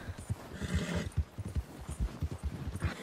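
Hooves of a white Arabian horse in a video game, a steady clip-clop of repeated low thuds at walking pace, fairly close, with brief snorting or whinny-like sounds and no talking.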